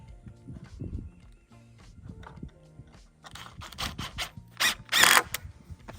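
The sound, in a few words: screwing a screw into the shade house frame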